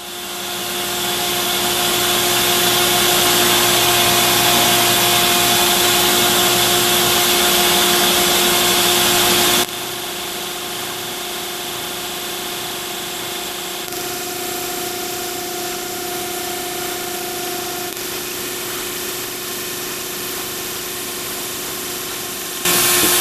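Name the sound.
machine counterboring holes in an aluminum mini pallet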